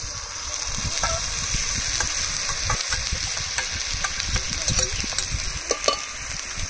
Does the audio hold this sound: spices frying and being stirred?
yes